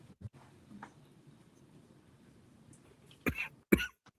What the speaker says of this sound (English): it sounds like you've got a cough